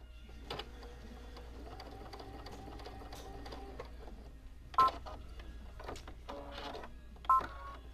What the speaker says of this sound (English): then I'm just going to sew right over it.